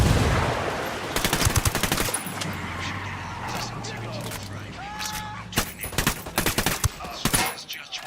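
Bursts of rapid gunfire and single shots ring out in a Ghost Recon Wildlands firefight, loud and close, with a low engine rumble underneath and scattered game dialogue between volleys.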